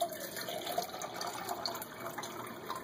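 Two cups of room-temperature water poured into a Jetboil camping stove pot, a steady splashing pour with a light gurgling texture, moderately quiet and continuous.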